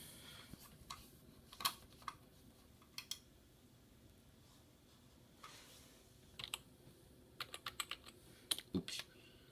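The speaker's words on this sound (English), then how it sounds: "Let me just enter in my lucky password." Someone types a password on the keyboard of an iMac G4 running OS X Leopard, producing sparse, uneven clusters of light key clicks over a faint, steady background hum.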